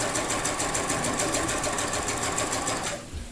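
A sewing machine free-motion quilting stippling curves along a quilt border, a steady fast mechanical whir and patter that stops abruptly at the end.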